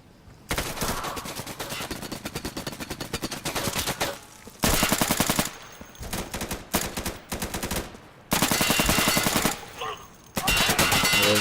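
Rapid automatic gunfire from the tactical shooter Insurgency 2, loud close bursts of varying length separated by brief pauses as different weapons are fired in turn.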